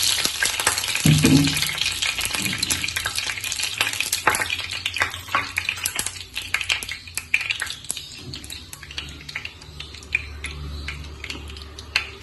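Oil heats in a pan for shallow frying stuffed squid, giving a steady close sizzle with scattered crackles and occasional clinks of stirring throughout. No one speaks.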